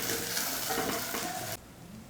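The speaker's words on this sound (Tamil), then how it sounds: "வெண்டைக்காயை வலுவலுப்பு போகிற வரைக்கும் இந்த போல் வதக்கி எடுத்துக்கணும்" Loud, close sizzling of okra frying in a pan that cuts off abruptly, leaving a quiet background.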